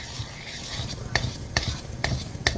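A spoon works cinnamon roll dough with added flour in a bowl, giving soft, steady stirring and scraping with a few sharp clicks against the bowl's side at regular intervals.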